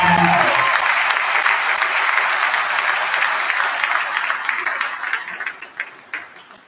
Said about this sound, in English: Let's have a huge round of applause for Mrs. Carol Markey.